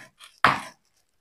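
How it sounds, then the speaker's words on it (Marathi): Coconut is crushed before grinding for a stuffed brinjal masala: a single sharp, close blow lands after a faint soft shuffle, then quiet. "खोबरं बारीक करण्याच्या अगोदर आपल्याला ठेचून घ्यायचंय."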